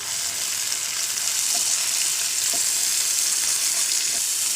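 Browned fried onions sauté with ginger garlic paste in a hot pan, making a loud, continuous sizzle broken by a few soft stirring knocks.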